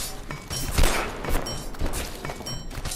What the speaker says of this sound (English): I hear the disc turret shooting